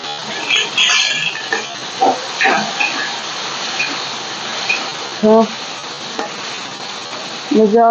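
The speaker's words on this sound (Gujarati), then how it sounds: "હવે આપણે આ લીલી મરચી છે નીચે અને ટમેટા છે એ આપણે નાખશું" Green chillies and tomatoes go into peanuts frying in oil for a Gujarati dry potato dish, bringing a hissing sizzle with clatters of stirring, while a person talks over it throughout.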